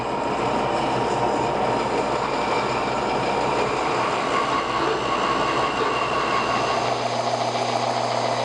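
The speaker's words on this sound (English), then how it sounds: "I'll cut it on the bandsaw and then finish and finesse it on the belt sander." A bandsaw cuts taped corbel blanks for a contemporary trestle table, giving a loud, steady mechanical roar with a sustained whine that runs unbroken for the whole stretch, with no talking.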